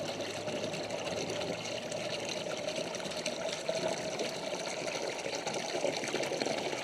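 Water pours steadily into a 7-gallon jug, a continuous close splashing and gurgling flow that holds an even level throughout.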